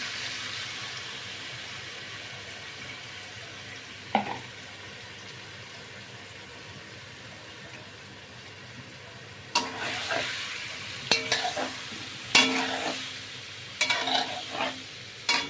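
Marinated prawns hit hot oil in a pan after a quiet stretch, then crackle and sizzle in loud, irregular bursts as they fry, with no voices.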